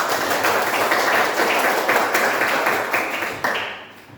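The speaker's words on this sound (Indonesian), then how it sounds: "Tepuk tangan kita semua." A classroom full of people clapping steadily during a fifth-grade primary school lesson in Indonesia, a dense burst of applause that holds strong and then tapers off near the end.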